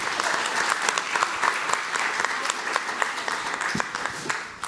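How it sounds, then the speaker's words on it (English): An audience at a panel on Latina futures and the environment breaks into sustained applause, many hands clapping in a dense, lively wash that tapers slightly at the end. "that's why we applaud you"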